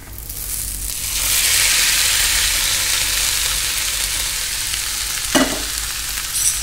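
Lentils tipped into a hot pan set off a loud, steady sizzle that rises within a second and holds, close and dense, with a short scrape of stirring near the end and no talking.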